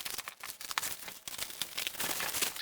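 Bubble wrap and plastic wrap being cut and pulled off the sides of a lighting fixture road case, a close run of crinkling, tearing and rustling bursts with brief pauses.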